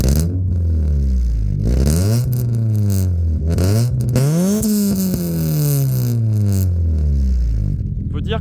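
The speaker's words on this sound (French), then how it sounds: "Faut accélérer un peu. Petit coup de gaz" Toyota Celica T16 engine revved in repeated blips of the throttle, each rev rising and falling sharply, loud and close, with a longer climb midway and voices talking over it.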